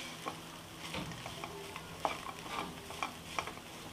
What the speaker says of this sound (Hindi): तो यहाँ पर हम सभी मसालों को मिक्स करेंगे